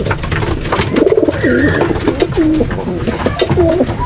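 Racing pigeons coo repeatedly in soft, rolling calls close by, layered over a busy background of other birds and ambient noise.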